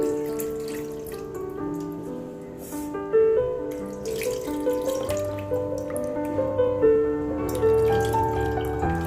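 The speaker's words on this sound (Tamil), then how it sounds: "இந்த புளி தண்ணியை கரைச்சி அந்த பவுலில் ஊற்றிக்கணும்" Tamarind water for rasam is poured into a bowl, a continuous splashing and trickling of liquid close by, with a steady musical background running underneath.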